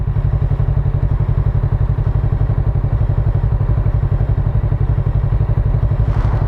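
A Kawasaki Z650RS motorcycle engine idles at a standstill, a steady, close, rhythmic low thrum that runs evenly throughout, with a brief brighter rustle near the end.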